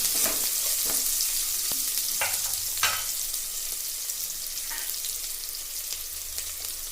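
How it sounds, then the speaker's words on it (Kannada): Onions fry in oil until browned for bisibelebath, with a continuous close sizzle broken by occasional scraping stirs of a spoon against the pan. "ಈರುಳ್ಳಿ ಚೆನ್ನಾಗಿ ಕೆಂಪು ಆಗೋವರೆಗೂ ಹುರ್ಕೋಬೇಕು"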